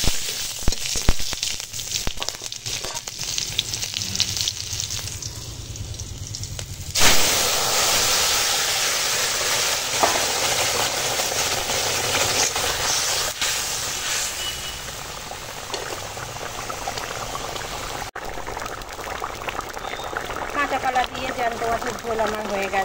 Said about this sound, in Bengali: এই দিয়ে আমি ঝোলটা সাঁতলে নেবো।